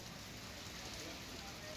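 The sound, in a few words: rain falling in Ahmedabad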